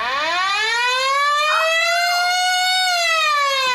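A loud, close police siren wails continuously, rising and holding in a long sweeping tone as a car is pulled over.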